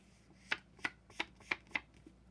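Thick paper of a handmade junk journal is handled, giving six crisp rustling flicks at an even pace, close and fairly quiet, with no talk.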